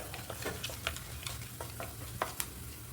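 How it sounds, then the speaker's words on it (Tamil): Cumin seeds frying in hot oil with a soft continuous sizzle and a scatter of small pops and crackles, faint and close, while a spoon occasionally stirs them. "இதை வந்துட்டு நல்லா கொஞ்சம் பொரிக்கலாம்."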